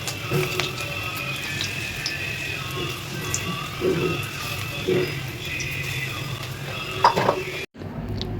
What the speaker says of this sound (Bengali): এবার তেলের মধ্যে আস্তে আস্তে করে বড়াগুলো দিয়ে বড়াগুলো ভাজবো